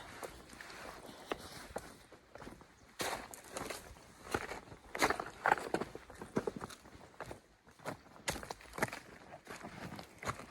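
Footsteps of a person walking away through a forest in daytime, uneven crunching steps on undergrowth, close and fairly loud with irregular spacing, no talk.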